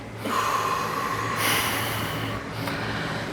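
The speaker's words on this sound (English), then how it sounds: "inhale and hold. Hold, hold, and then exhale." Breath released in a long exhale during a standing breathing exercise, one close, steady breathy rush lasting a few seconds with a faint hum underneath.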